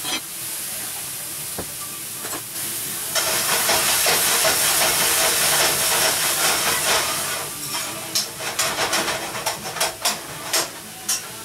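Vegetables, including pea pods, onion, mushrooms, bok choy and napa cabbage, sizzling steadily in a hot saute pan, with a loud continuous hiss that swells midway and breaks into crackling pops toward the end.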